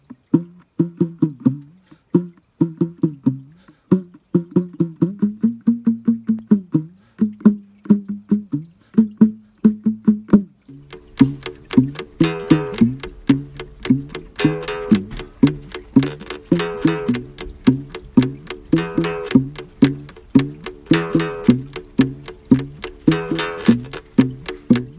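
A homemade bin bass made from an empty container, a bamboo stick and a string is plucked in a steady rhythmic line of low, thumping notes, with a second accompanying layer joining partway through.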